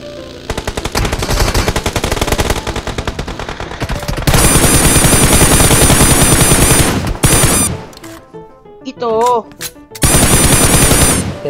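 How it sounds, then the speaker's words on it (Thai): Rapid bursts of automatic machine-gun fire in a shooting video game, loud and dense, broken by brief pauses and a short stretch of quieter sounds before the heavy firing resumes. "ยิงนะเตรียมยิงนะ"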